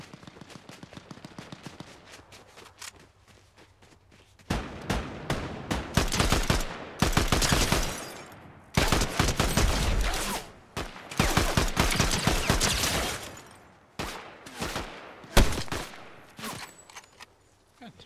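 Rapid bursts of automatic gunfire in the video game Fortnite, loud clustered volleys breaking out after a quieter stretch of scattered shots and footsteps, with pauses between salvos.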